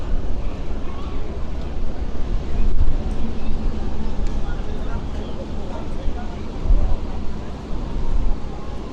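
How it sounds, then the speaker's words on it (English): Wind buffets a microphone outdoors on a Blackpool illuminations tour, a steady loud rumble with gusty swells throughout, with no clear voice over it. "the wind's coming at me again"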